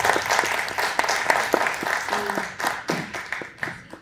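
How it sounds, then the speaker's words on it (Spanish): Audience at an experimental film lab event gives a round of applause, close and lively with distinct individual claps over a dense clapping wash that gradually thins and fades toward the end. "un aplauso para él"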